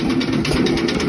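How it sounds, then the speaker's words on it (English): An old 1940s engine, restored from scrap, runs steadily at a low idle with a continuous mid-low rumble that stays close and even throughout. "You can hear the big engine on it."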